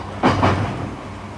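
E235 series electric train with SiC-VVVF drive running on the Chiba to Narita stretch toward Narita Airport, a brief rising swell of motor whine and wheel noise heard from inside the car, fairly close and alone.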